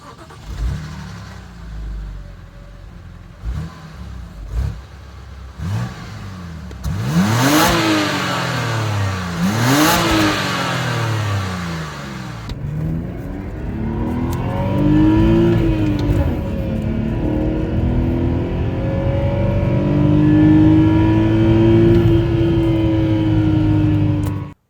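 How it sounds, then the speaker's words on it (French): A car engine starts and revs hard several times in bursts, then settles into a sustained, rising and falling roar close by. "on va peut-être voir le bruit que ça fait ce moteur"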